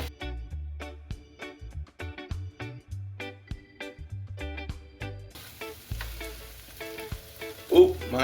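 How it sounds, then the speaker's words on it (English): Egg-fried rice with kielbasa being stirred in a frying pan, with repeated scraping strokes of a spoon against the pan and a rising sizzle in the second half, close and fairly loud, with no talking. "let's stir up those ingredients so it's nice all over"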